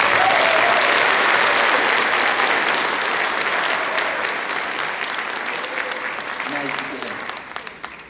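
A high school scholarship night audience gives a loud, sustained round of clapping that tapers off toward the end, with a voice breaking in at the close.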